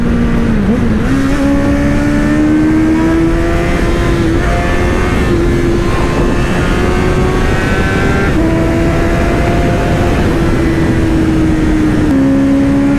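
A car accelerates along a road, its engine rising and falling through the gears behind a muffled exhaust, loud and steady throughout with no talk.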